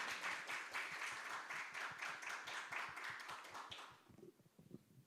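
Audience applause greeting a National Assembly member as she comes up to give congratulatory remarks at a youth self-reliance family launch ceremony: dense, steady clapping from a crowd that fades out after about four seconds, leaving a few scattered claps.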